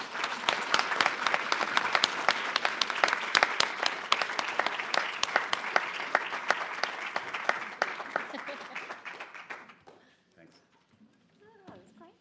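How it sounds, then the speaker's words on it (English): Dense, sustained audience applause fills a talk about women's rights for nearly ten seconds, loud and steady with sharp individual claps, then trails off into quieter room noise and faint sounds. "Please give them a warm round of applause"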